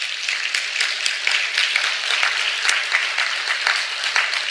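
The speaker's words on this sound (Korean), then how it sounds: "큰 감사의 박수 올려주시면 좋겠습니다." A church seminar crowd applauds, a dense and steady clapping that lasts the whole stretch without any voices over it.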